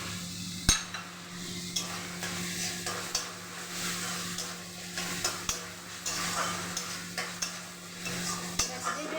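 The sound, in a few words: stir-frying spice paste with chopped tomato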